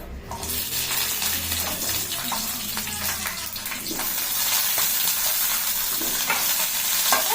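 Dried red chillies and garlic frying in a little oil in a pan, a loud, dense, steady crackling sizzle that starts sharply and keeps going, with faint scraping from stirring.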